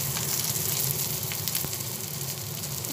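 A fish head fries in hot oil in a pan for a chard and fish head stir-fry, giving a steady close hiss and crackle with faint occasional stirring scrapes and no voices.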